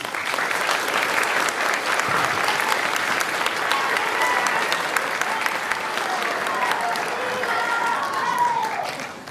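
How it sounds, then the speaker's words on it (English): A school audience at a 7th and 8th grade spring concert claps steadily and warmly, a dense, sustained round of applause that holds level for several seconds before tapering at the end. "I just want to give her a round of applause before she comes up for her next piece"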